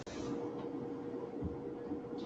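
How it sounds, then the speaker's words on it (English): A train rumbles through, a continuous low, heavy roar filling the whole stretch at steady loudness with faint higher rattles on top, no voices. "it sounds like a train coming through"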